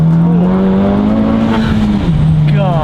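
A turbo-upgraded Honda Civic Type R FK8 accelerates hard, heard from inside as a loud, sustained engine drone that climbs gradually, dips briefly at a shift, then pulls again, with occasional voices over it.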